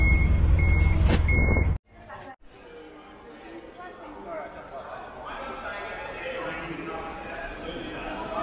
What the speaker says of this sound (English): hang on, we'll wait for this truck.